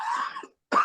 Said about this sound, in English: There's my old man cough.